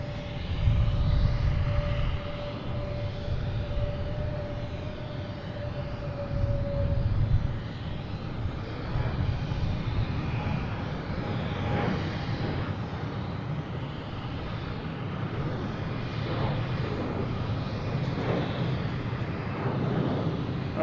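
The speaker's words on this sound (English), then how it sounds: "And we have Delta taking off, heading to Columbus." A Delta jet airliner takes off from Boston Logan International Airport, its engines building to a broad, sustained roar that holds steady at moderate distance throughout, with no talk over it.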